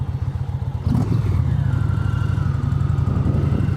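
A motorcycle engine runs through an aftermarket Big Daddy exhaust, with a steady, loud, close rumbling idle throughout and a brief louder blip near the start. The bike is an Indian in Street Glide style. No one speaks.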